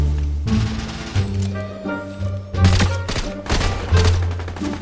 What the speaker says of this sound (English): this random guy was shooting me out of a tree